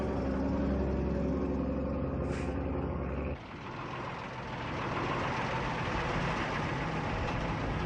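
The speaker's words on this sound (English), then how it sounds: "The vehicles began moving forward, but they didn't move far." Military lorries and vehicles on a road during the 1972 South Vietnamese retreat from Quang Tri: a loud idling truck engine with a brief air hiss, then broadband rumbling traffic noise as the vehicles move off.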